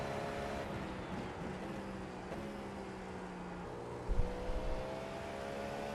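GTP race car in the iRacing game at full speed through Parabolica at Monza: a continuous high engine whine holding steady with slight pitch shifts, a brief low thump near the end, no talk.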